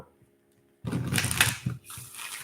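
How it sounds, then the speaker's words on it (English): A deck of tarot cards is shuffled close by in a short riffling burst of papery flutters and taps, preceded by near silence. "I'm going to shuffle these a couple more times."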